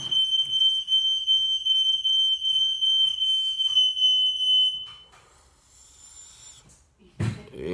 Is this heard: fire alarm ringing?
yes